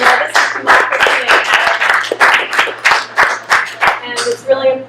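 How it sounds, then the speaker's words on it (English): An audience at a 2016 election discussion for a county supervisor district claps in a round of applause, a dense burst of hand claps that carries on for several seconds, loud and close. "Can we first give them all a great round of applause?"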